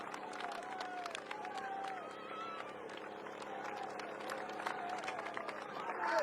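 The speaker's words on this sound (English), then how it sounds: "Great crowds." Roadside spectators at a Tour de France stage in Normandy cheer and clap in a steady, distant roar, with a commentator talking over the crowd noise.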